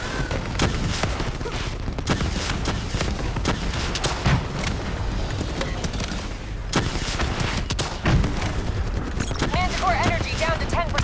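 Gunfire in the Call of Duty: Black Ops 3 video game, rapid bursts and sharp repeated shots with booming impacts in a continuous firefight, while voices speak over the combat.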